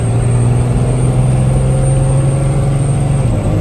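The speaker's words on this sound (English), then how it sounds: "So from dead start, we're gonna do a hard acceleration." A 21,500-pound truck accelerates hard from a dead start with a loud, steady, droning engine roar. Pitch holds nearly level across the few seconds with no pauses.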